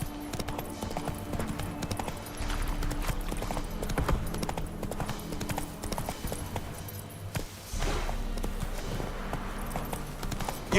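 A horse gallops in the video game The Witcher 3, its hooves pounding in a steady, rhythmic clip-clop that runs almost the whole time beneath low, sustained background music.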